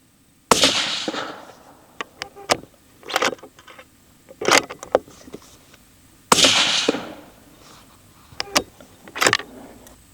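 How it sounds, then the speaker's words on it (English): Rifle shots are fired in a group while zeroing a scope: sharp, loud reports spaced about a second apart, each followed by a brief decaying echo, with quiet gaps between them. "Let's shoot a group just to make sure it's not a dispersion error."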